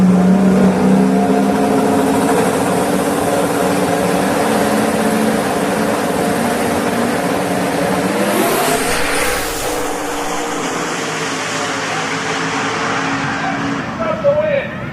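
Race car engine of a 2007 Mustang at a drag racing event, a loud continuous roar with a rising rev near the end, under an announcer's voice and crowd noise.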